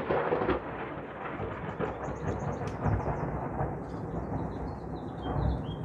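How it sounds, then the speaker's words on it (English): Rolling thunder rumbles steadily through a storm on a tornado-warning day, a broad low roar with swelling peaks, while birds chirp faintly in the background. "Listen to that sound, rolling thunder."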